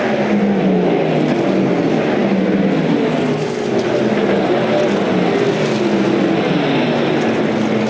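USAC Silver Crown race cars roar around the DuQuoin, Illinois dirt track in a close battle, overlapping engine drones rising and falling as they circulate, loud and continuous.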